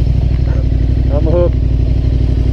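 A KTM 1190R big-bike engine chugs steadily while being ridden through off-road enduro terrain, loud and close, with a brief voice over the throb.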